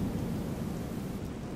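A thunderstorm roars as a dense, steady wash of rain with deep rumbling thunder underneath, loud and continuous throughout without a break.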